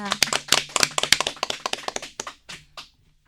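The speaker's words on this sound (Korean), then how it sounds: "여러분 큰 박수 부탁드립니다" Audience applause at a public poetry recital broadcast, a burst of several people clapping in quick irregular claps that thin to a few scattered claps and stop within about three seconds.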